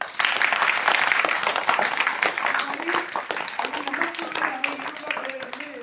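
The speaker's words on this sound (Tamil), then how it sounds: "கைதட்டு பார்ப்போம்." Schoolchildren at a primary school in Singrajapuram clap their hands together, loud and close at first and then thinning gradually, with voices rising over the fading claps.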